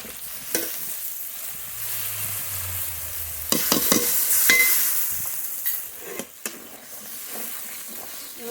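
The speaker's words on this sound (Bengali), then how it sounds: "ভালো করে মশলাটা কষিয়ে নেব" Yogurt and almond masala for doi pabda fries in a pan with a steady, close sizzle and hiss, broken by a few sharp scrapes and knocks of a stirring spoon, with no talking.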